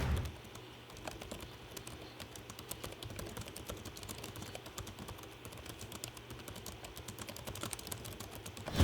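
Rapid, steady typing on a Lenovo Y545 gaming laptop keyboard, a dense run of soft keystroke clicks close by, with a faint low hum underneath.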